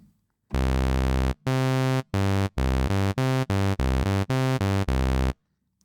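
Tom Oberheim SEM Pro synthesizer on a plain sawtooth sound, with a rich, reedy tone. It plays a phrase of distinct notes, a long opening note followed by quicker short ones, heard alone and up close.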